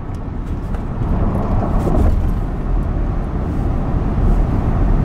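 Modified sleeper Ford F150 truck street racing in Mexico, a loud sustained engine roar with dense low rumble that surges around the middle and keeps pulling hard to the end.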